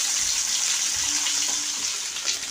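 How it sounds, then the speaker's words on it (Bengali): Fish frying in hot oil: a dense, steady sizzle and crackle close by, continuous and loud with no talking. "মাছটাই ভেজে নেব লাল লাল করে।"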